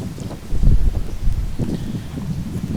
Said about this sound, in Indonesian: ini di pantai ya, jadi angin laut cukup kencang